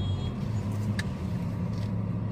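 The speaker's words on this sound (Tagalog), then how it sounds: "medyo traffic nga lang, nagbubulbul ang traffic" Steady hum of road traffic with cars and taxis rolling past, a continuous low engine drone with a faint rise near the middle, no talk.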